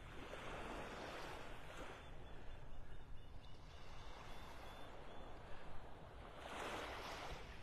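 Early-morning ocean surf rolls onto a beach in North Naples, Florida, a steady broadband wash that swells and recedes in soft waves, with light wind across the microphone and no talking.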